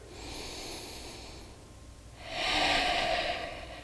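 Slow nasal breathing while holding a yoga pose: a soft, drawn-out inhale followed by a louder, airy exhale, close to the listener in a quiet room.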